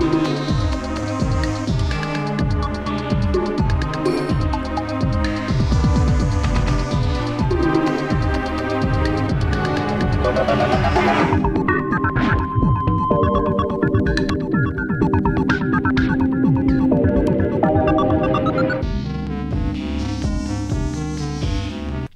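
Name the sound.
subdued synth pad in OMORI video game soundtrack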